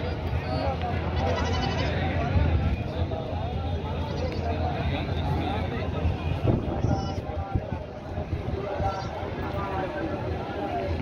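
Goats bleat repeatedly at a busy goat market in Hyderabad, the calls rising over constant crowd chatter and shuffling hooves, with someone talking close by throughout.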